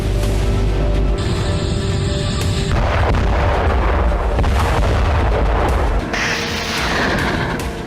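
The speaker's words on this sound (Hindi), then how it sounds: "डोनेस्क में रूसी सेना ने MLS से इस तरह विध्वंसक प्रहार किया" A Russian multiple rocket launcher strike in Donetsk, with dense, continuous rumbling booms and roaring launches that overlap in a loud, sustained barrage.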